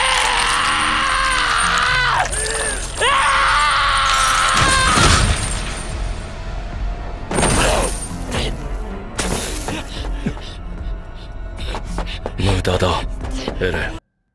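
A harsh, raspy guttural scream from an anime dub rises over dramatic music and crashing sounds, loud throughout before breaking into chaotic impacts.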